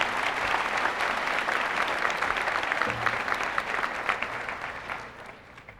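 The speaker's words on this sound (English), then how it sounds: "Let's congratulate them again with a round of applause." An audience at a 1997 high school graduation ceremony in Fayetteville, NC applauds, a broad, steady wave of clapping from a large crowd that thins out and fades toward the end.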